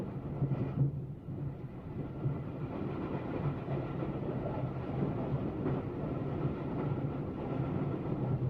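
Continuous low rumble of a steel-wheeled train running under power along steel rails, steady and fairly loud throughout, with no voices.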